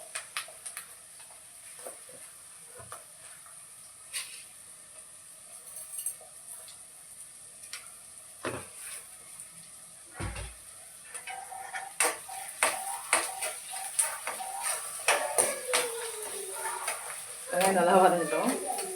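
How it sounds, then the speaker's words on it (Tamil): Onions sauté with salt in a pan, a faint sizzle under scattered ticks and utensil clicks that grow busier and louder toward the end, with a voice talking intermittently. "வெங்காயம் நல்லா வதங்கிட்டோம்."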